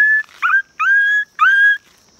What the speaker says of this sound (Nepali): यो यो स्वर मेरो कुकुर कुकुरको आवाज हो